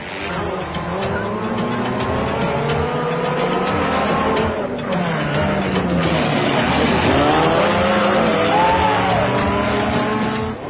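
Off-road motorcycle engines roar together at the start of a round-the-houses race in Lesotho, a loud, dense snarl of revving that rises and falls as the pack charges off.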